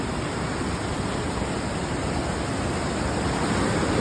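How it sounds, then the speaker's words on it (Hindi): Rushing mountain river near Kedarnath, a steady loud broadband roar of fast-flowing water close by, continuous with no talk. "पानी का साउंड सुनो।"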